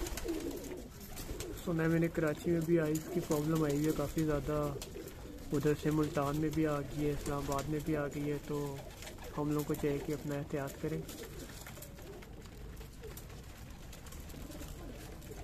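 Pigeons, some under treatment for an eye ailment, coo while grain is scattered for them to feed. Low, throaty coos run under a man's fairly close speech, and he pauses between phrases.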